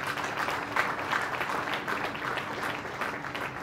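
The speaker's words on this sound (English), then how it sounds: "Let's give them another round of applause." Sustained audience applause honoring military veterans in Canada at a formal ceremony, a steady, dense wash of clapping lasting throughout with no speech over it.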